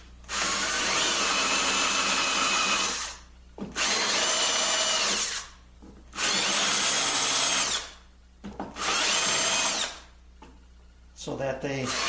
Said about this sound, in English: So I'll countersink these.